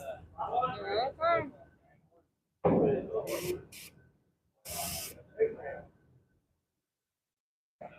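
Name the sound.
air compressor hissing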